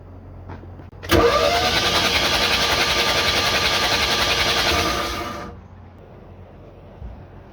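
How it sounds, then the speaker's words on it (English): An engine cranks over loudly with a steady, rapid starter churn for about four seconds without catching, then winds down into quiet. The sound is close, with only faint background noise before and after. "Cranks over."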